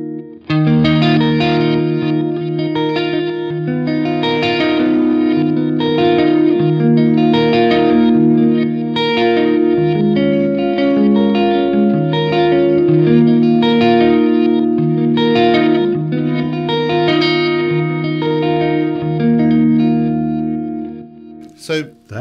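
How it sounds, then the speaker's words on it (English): An electric guitar runs through a Danelectro Back Talk reverse delay pedal, its chords swelling into a dense, shimmering ambient wash that sustains loudly for about twenty seconds. "that's really different to have that reverse wash"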